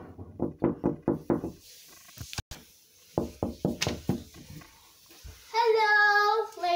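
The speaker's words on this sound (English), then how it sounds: "let's knock on the door" Knocking on a door, two quick runs of about five firm raps each separated by a pause, followed by a voice speaking.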